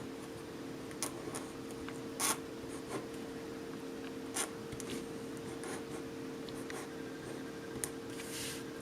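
A marker pen writes a graffiti tag in quick scratchy strokes, with soft squeaks and rubs against a faint steady background hum, close and without talk.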